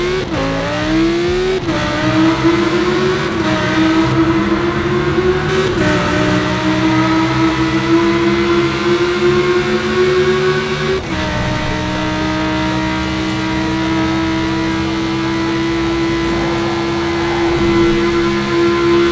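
Italdesign Zerouno in Forza Horizon 4, a loud, close engine revving hard with sharp shifts and climbing pitch, surging again after a brief drop and holding a high drone.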